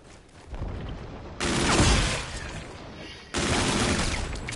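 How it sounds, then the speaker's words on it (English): Gas grenades in Call of Duty Zombies go off in a couple of loud, sudden bursts of dense hissing noise. Each burst sustains for a second or two over a rumbling background. "Fucking gas grenades."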